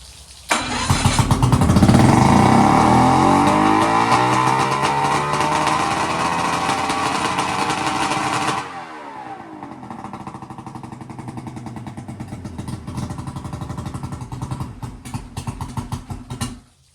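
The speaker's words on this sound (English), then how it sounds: "it is idling extremely high" A restored boat engine on its first fire-up catches and idles very high and loud, a harsh roar for about eight seconds, then drops abruptly to a lower, rougher running sound.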